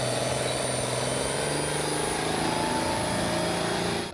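Powerful tractor engines roar steadily at an agricultural tractor pulling competition in the Treviso area, a loud, sustained drone with a droning pitch that holds evenly throughout before cutting off at the end.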